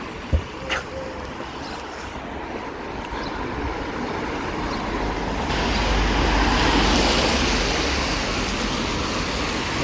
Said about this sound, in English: it's pretty noisy with all the cars going